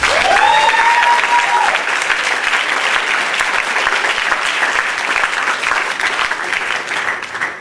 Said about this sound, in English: So please give another round of applause to these brilliant individuals.